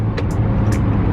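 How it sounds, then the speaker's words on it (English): Road traffic with a big truck and a car speeding up from behind, a steady close engine and tyre roar with brief hissing bursts over it. "we get out of the way of this big old truck that's trying to get over this car that's flying up behind me"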